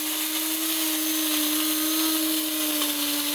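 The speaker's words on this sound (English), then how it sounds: "and then we grind those beans real nice in there." An electric grinder grinds coffee beans for a moka pot with a steady, loud, continuous whir and high buzzing hum that holds even throughout.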